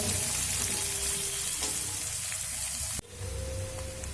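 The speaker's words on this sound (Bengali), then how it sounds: "দেখুন পেঁয়াজ রসুন আর আদা ভাজা হয়ে এসছে" Onion, garlic and ginger frying in a pan, a steady hissing sizzle that cuts off abruptly about three seconds in and resumes at a slightly lower level, close up with no talking.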